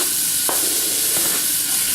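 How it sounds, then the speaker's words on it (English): Butter and olive oil sizzle steadily in a pot for keto cream of celery soup, with onion going in, giving a close, continuous hiss broken by a couple of faint stirring clicks. "We've got that nice little sizzle going on there"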